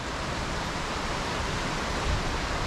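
A forest stream flows beside a trail near a waterfall in Paraná, a steady broadband rush of water that stays even and fairly loud throughout, with no voices.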